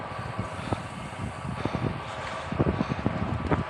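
Headwind buffets a rider's microphone during a road cycling ride in the Rapha Festive 500, a continuous low rumbling roar with uneven gusty thumps, close and fairly loud, without speech.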